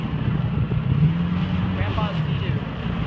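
A Sea-Doo jet ski engine drones steadily nearby on the water, a low continuous hum with wind and water noise, while a person talks faintly over it.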